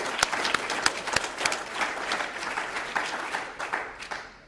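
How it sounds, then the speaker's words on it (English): Audience applause at a Nashville event, a moderately distant crowd clapping steadily with a few sharp individual claps standing out, fading slightly toward the end. "please give a round of applause to the people from Nashville to put this on"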